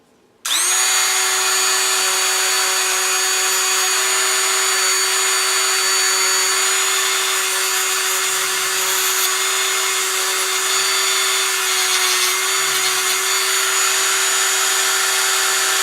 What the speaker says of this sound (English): We're going to start polishing the trigger bar up.